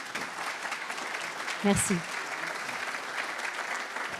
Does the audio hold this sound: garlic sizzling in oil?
no